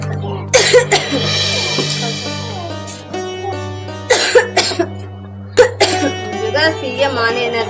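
A man coughs repeatedly in a comic Bhojpuri skit about cough medicine, loud raspy bursts in several separate fits, with talk in between.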